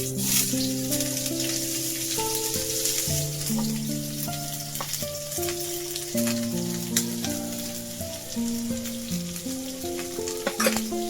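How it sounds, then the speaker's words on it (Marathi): Onion frying in oil in a pan for a potato curry, a steady sizzle and hiss running under louder melodic background music throughout. "कांदा टाकूया"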